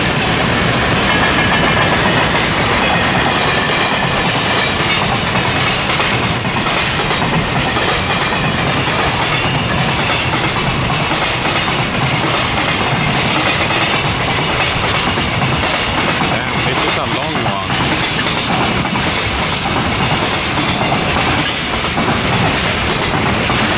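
A freight train passes close by on a main rail line in Japan, a loud, continuous clatter of wheels over rail joints with faint squeals, sustained throughout.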